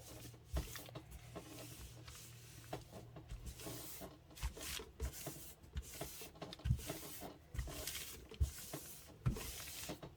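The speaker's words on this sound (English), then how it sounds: "I'm just going to glue it down. Just gluing a little at a time." Crinkly padded envelope packaging is glued down a little at a time onto a journal cover, giving quiet, close rustling, rubbing and crinkling with soft intermittent taps.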